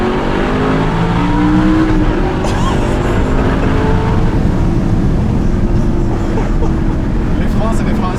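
Audi R8 with a naturally aspirated V8 growling steadily while driving, loud and close under constant road and wind noise, with someone talking over it.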